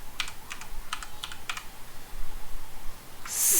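A handful of computer keyboard keystrokes, clicking in short clusters at a moderate pace, followed by a brief burst of noise at the end; no voices.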